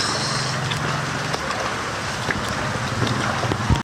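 Steady broadband roar of wind buffeting the microphone during a typhoon flood in Dasmariñas, Cavite, constant and loud, with a rushing water-like wash underneath and no voices.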